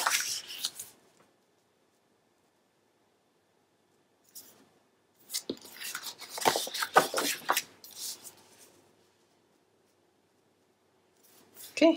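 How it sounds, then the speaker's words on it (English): Scissors trim paper for a handmade mini album, a few short snipping and rustling bursts separated by quiet pauses, close and fairly soft. "we just need to trim this down to fit just a little bit"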